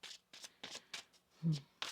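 A deck of tarot cards being shuffled in several quick riffling bursts, close and fairly quiet, with a brief low thump near the end.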